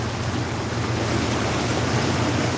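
Strong floodwater waves surging near a covered court in flooded Nabua, Camarines Sur, a steady loud rushing wash with no speech, close and unbroken.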